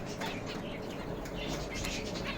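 Finches in an aviary flutter their wings in a steady, busy whir of soft flapping, close and continuous over a dense background of rustling.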